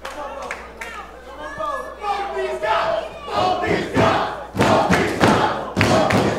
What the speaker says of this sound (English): Crowd cheering for both these guys.